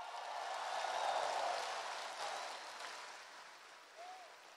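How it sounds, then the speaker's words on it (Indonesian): An audience at a political party speech applauds, a broad steady wash of clapping that swells and slowly fades, moderately distant with a faint voice near the end. "Tepuk tangan bro dan sis semua."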